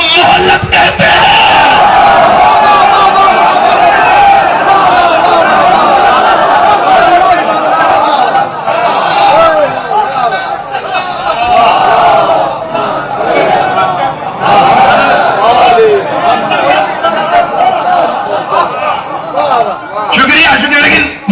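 Crowd at a Muharram majlis raising slogans in unison, loud and sustained massed voices with rhythmic shouted surges and some chatter throughout.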